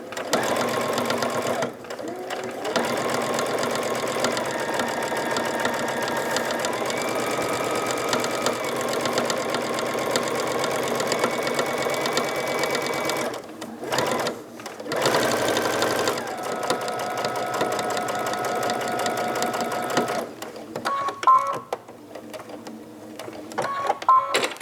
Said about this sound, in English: you're going to stitch close to the edge of this inside folded area all the way down from end to end